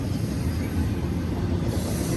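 A BNSF intermodal freight train rolls through Cajon Pass, a loud, continuous rumble and hiss of wheels and railcars that holds steady throughout, with no voices.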